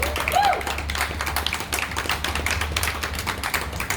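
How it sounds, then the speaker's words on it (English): Audience applause and scattered clapping at a poetry reading in a museum, steady for several seconds with a low hum beneath and faint voices mixed in. "Let's give him another round of applause."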